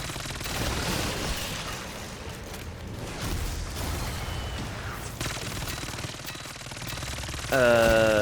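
SMG gunfire in a shooter video game, dense rapid bursts of shots and mechanical clatter across the clip, loud and close, ending in a sustained tonal game sound.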